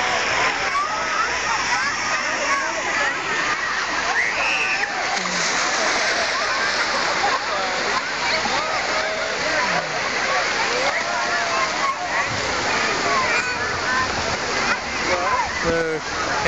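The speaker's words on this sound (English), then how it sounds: "There's Hannah swimming." Swimming and splashing in an outdoor pool or lake, with continuous loud water splashes and sloshing throughout, while people shout and talk over it.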